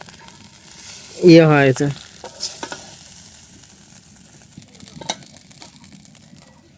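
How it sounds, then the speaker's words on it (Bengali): Rice fries as bhaji in a pan in a village kitchen in the morning, a low, steady sizzle with soft stirring scrapes, broken early by a brief spoken phrase. "আমাদের ভাত ভাজি করা প্রায় শেষ"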